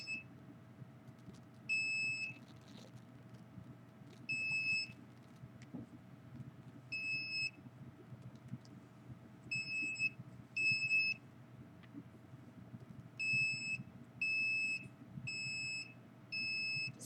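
An electronic alarm tone sounding in repeated short beeps, often in pairs or triplets with irregular gaps, steady and fairly clear over a low constant hum, with no voices.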